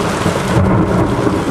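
Thunder from a close cloud-to-ground lightning strike in a Florida summer storm rumbles loudly and continuously under steady heavy rain, with no voices.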